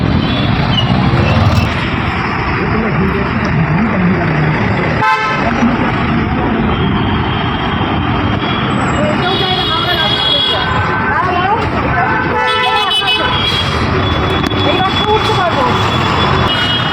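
Busy road traffic while crossing a street on foot, with loud passing vehicles and several sharp horn toots sounding close by, and people talking over the din.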